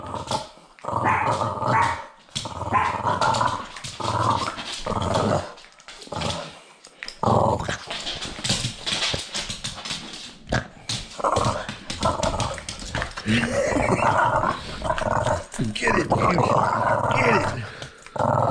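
A dog growls and barks repeatedly, close by and loud, with people talking over it throughout.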